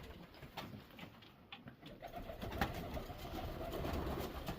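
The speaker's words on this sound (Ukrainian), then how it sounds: "Дивимося на голуби." Pigeons coo softly and repeatedly outdoors in daylight, faint and somewhat distant, with a low rustling background and no talking.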